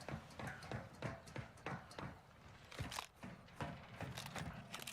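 Rapid footsteps in the video game Warzone 2, a fast, steady run of thudding steps at moderate loudness against game ambience.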